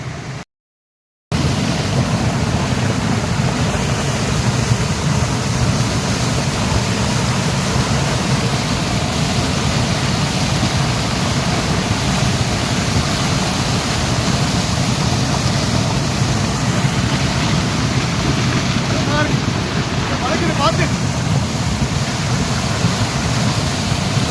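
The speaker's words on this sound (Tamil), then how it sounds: "மேலேருந்து விழுற அருவி தான் இது" A waterfall pouring down from above makes a loud, steady roar of rushing water that runs continuously and close by, with no voices over it.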